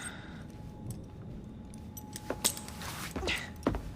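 Keys jangle in a short metallic burst during a scene from Assassin's Creed Syndicate, a few bright clinks rising near the end over a low background hum.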